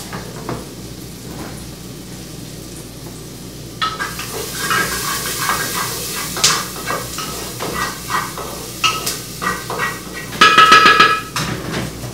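Dried beef being sautéed in a pan with squash, with a broad sizzle rising and clattering spoon stirs scraping against the pan, close and loud, then a brief sharper burst of frying near the end.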